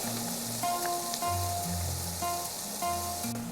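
Garlic and vegetables sauté in a hot pan for Colombian tamales, a close steady sizzle with light tonal music playing underneath.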